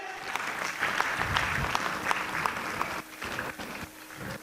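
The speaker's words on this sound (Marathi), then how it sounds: "प्रबोधनची सुद्धा शिकवण आहे, टाळ्या वाजवल्या पाहिजे." Many people in a lecture audience at Prabodhan Sanstha, Pimpri-Chinchwad, applaud in a sustained, fairly close patter of claps that thins and dips near the end.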